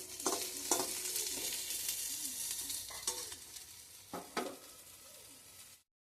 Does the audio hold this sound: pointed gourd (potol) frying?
yes